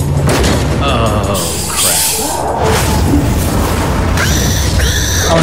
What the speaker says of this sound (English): Oh, now I explode.